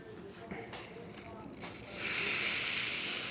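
A La Pavoni Professional espresso machine's steam wand. After a quieter stretch with faint clatter, a loud, steady steam hiss bursts on about two-thirds of the way through and holds to the end.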